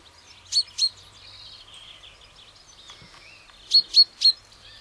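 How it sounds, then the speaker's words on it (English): A finch perched on a headstone in a country churchyard on the North York Moors gives short, clear chirps, two quick calls and then a run of three, against a quiet background. "Our little Finch has come for a cup of tea with us and a few crumbs if we can"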